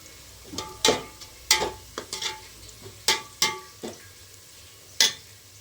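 Onions browning in a pan for chicken biryani crackle under a low sizzle, punctuated by sharp, close scrapes and clinks of a spoon stirring against the pan at irregular intervals.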